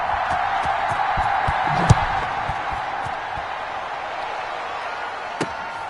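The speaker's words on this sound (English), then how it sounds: "the crowd is loud and on its feet as Alan Myers gets things started." Stadium crowd noise from a football video game, a steady loud roar of cheering spectators with a couple of brief sharp thumps, continuous throughout.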